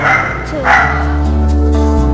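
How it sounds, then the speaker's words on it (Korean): Dogs bark loudly and close at an indoor playground during a pet festival, two sharp barks in quick succession followed by a whimpering tone, with faint background noise. "실내 놀이터에서는 우리 견공들 아이들과 놀아주느라 바쁜데요"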